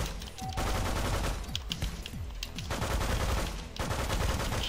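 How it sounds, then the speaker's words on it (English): Rapid automatic gunfire fills the whole stretch in the Megabyte Punch video game, a dense, continuous rattle of shots blasting through a wall, with only a brief dip in the middle. "I can shoot through this wall if you want me to."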